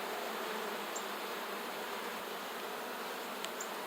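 Honeybees hum steadily around an open beehive with a lot of brood, giving a dense, continuous buzz at close range, and a couple of faint brief ticks sit on top.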